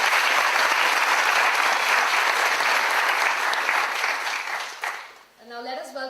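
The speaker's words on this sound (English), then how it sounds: "Please a round of applause again for all two representatives." Dense applause from a graduation ceremony audience fills the hall steadily for about five seconds, then thins out and fades as a voice begins speaking over the tail.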